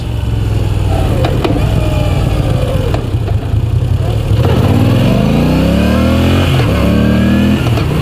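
A 2016 Moto Guzzi V9 Bobber accelerates on the road, its engine note climbing steadily through the gears, loud and close with continuous wind and motor roar throughout.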